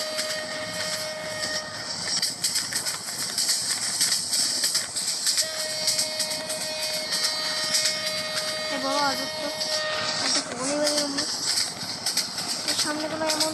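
A train runs in the Train Simulator Bangladesh game with a steady rumble and rail clatter, plus gliding horn-like tones near the end, while someone talks over it.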